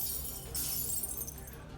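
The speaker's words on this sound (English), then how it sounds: "You hear the sounds of glass shattering." Glass shatters loudly and close, a bright crashing burst that rings on with scattered tinkling fragments, played as a sound effect over low background noise.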